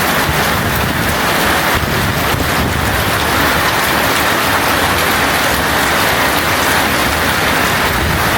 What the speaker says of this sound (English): Guys, it is raining, you can see.